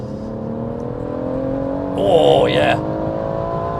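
BMW M140i engine droning steadily from inside the cabin as the revs slowly climb, with a brief exclamation from a person partway through.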